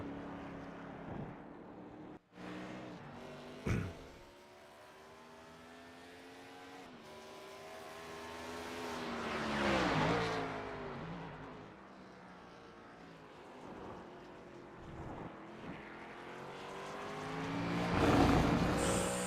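Race cars lapping during qualifying in a sim racing league game, engine tones rising and falling as cars pass, with gear-change drops and a louder pass near the end, fairly quiet overall.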